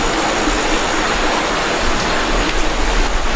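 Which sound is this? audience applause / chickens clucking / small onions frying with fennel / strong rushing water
strong rushing water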